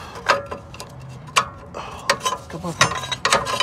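A ratchet clicks in short bursts as a bracket comes off a Corolla C60 manual transmission, with close, sharp metallic ticks and small clanks at an uneven rhythm.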